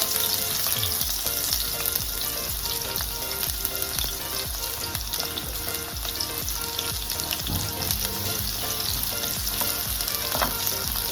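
A medium onion and a green chilli frying in oil for mutton curry, a loud continuous sizzle with frequent close stirring and scraping clatter, no talking.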